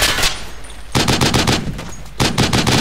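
Bursts of automatic gunfire in the military shooter Project Reality, set at an airport, come in loud, dense volleys with a brief lull between them and no talk over them.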